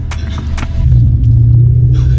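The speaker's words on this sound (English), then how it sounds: "Wheel spin, wheel spin." An electric BMW i4 M50 launching hard with wheel spin, heard as a loud, steady low rumble and road roar that swells and holds, with a few brief sharp noises early on and no engine note.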